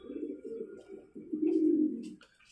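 Pigeons coo at a nest, two deep, rolling coos in close succession, near and fairly loud, with faint chirps behind.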